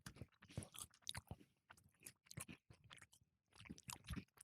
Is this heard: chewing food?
yes